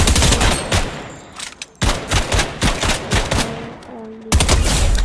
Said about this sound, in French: vous reprenez l'arme et vous les tuez comme ça